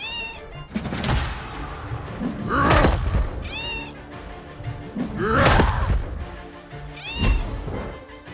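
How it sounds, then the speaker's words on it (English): Cat meows in a steampunk role-playing video game, glitching so the same cry repeats over and over; several loud, close meows come in spaced bursts amid game music and ambience. "One amusing audio glitch was when I had a cat constantly meowing"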